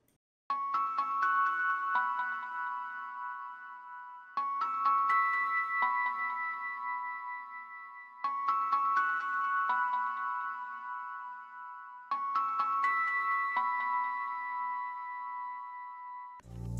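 Synth keys pluck pattern from the AZ Solaris preset of a Bazeal plugin's keys folder, a bright plucked melodic phrase repeating four times in roughly four-second cycles, steady and clear with no voices.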